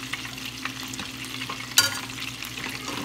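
Homemade hamburger steak patties fry in a pan with a steady, soft background sizzle, broken by a few light scrapes and one sharper clink near the middle; no one speaks.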